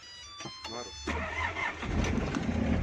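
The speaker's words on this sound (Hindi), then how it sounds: "इस गाड़ी को स्टार्ट करेंगे" A Mitsubishi Pajero engine cranks briefly and catches, then settles into a loud, steady rumbling idle close by, with some faint voice activity early on.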